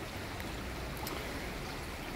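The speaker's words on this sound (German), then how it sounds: "der Bach." A small brook flows steadily outdoors, a faint, even, hissing rush of running water with no talk and no distinct splashes.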